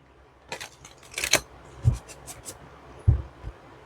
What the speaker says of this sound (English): So it's nice to shuffle.